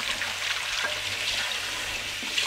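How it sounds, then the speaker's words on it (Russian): Cold tap water runs into a pot of freshly boiled eggs, giving a continuous close hissing splash of water striking the pot and eggs, steady and fairly loud, with no voices. "Налью в них холодной воды"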